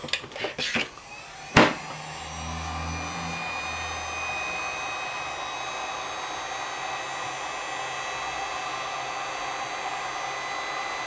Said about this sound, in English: Go ahead and heat shrink that up.